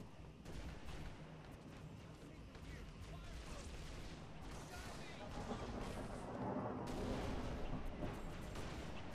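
In a video game, continuous gunfire and heavy booming shots are aimed at a ship, a dense, rumbling barrage that swells louder toward the end, with voices talking over it.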